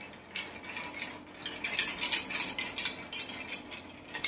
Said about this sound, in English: So we give it a good stir.